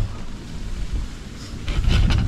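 Strong wind buffets the microphone in low, rumbling gusts that swell louder near the end, likely outdoors by the sea with waves nearby, with no talking.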